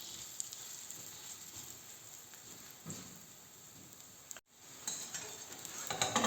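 Winter squash fritters sizzle and crackle steadily in a hot pan, a soft continuous frying hiss with a brief pause and a few sharper pops near the end.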